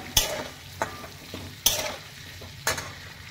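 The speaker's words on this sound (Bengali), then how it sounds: "দিলাম ক্যাপসিকাম, একটু নাড়লাম" Red bell pepper stir-fried in a pan sizzles softly while a utensil scrapes and knocks against the metal in four sharp strokes, spaced about a second apart.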